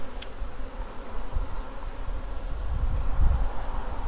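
Honey bees buzzing during a package bee installation into a hive with built-out comb, a dense continuous hum of many insects close by, steady and moderately loud with no talking.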